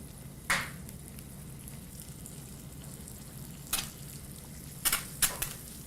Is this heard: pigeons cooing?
no